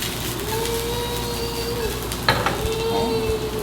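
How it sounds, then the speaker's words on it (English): Shiitake mushrooms frying in peanut oil in a pan, with a steady close sizzle and a brief clack of a utensil as they are stirred. "I'm stirring that up, getting that peanut oil kind of around everything."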